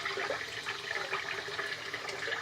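Water runs from a tap in a continuous, moderately quiet rush as the end of a vintage Williams shave stick is wetted, close by and with no voices.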